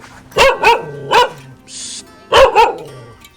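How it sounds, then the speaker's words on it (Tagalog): A dog barks in two quick pairs with a single bark between, loud and close, and a brief hiss in the gap. "Bingay ang aso."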